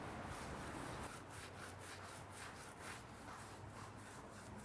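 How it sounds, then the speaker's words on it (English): A stiff-bristle brush scrubs a car tire to strip old dressing and grime, giving a continuous close, loud rasping swish with rhythmic strokes and no voices. "we're going to use this to clean the tire, just to remove any of the old dressings and filth"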